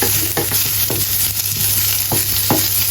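Onion sautés in hot oil in a pan for Filipino mussel adobo, giving a loud, continuous sizzle broken by a few scraping stirs, with no voices.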